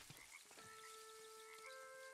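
Frogs croaking in the video game Foundation, a few soft croaks followed by a sustained tonal call, faint and alone.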